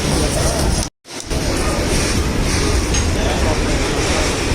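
A train rumbles into a busy station platform, a loud, continuous roar with metallic clinks and a brief dropout, heard up close over the crowd.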